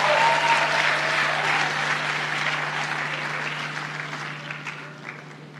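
A church congregation claps together in a sustained round of applause, loud and dense at first and tapering gradually, with a steady electrical hum underneath.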